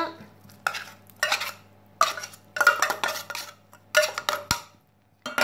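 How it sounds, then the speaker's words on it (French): A spoon stirs quiche filling of canned tuna and grated gruyère in a bowl, giving bursts of scraping and clinking against the dish in an uneven rhythm with short pauses, close and fairly loud, with no talking. "Et je remue le tout."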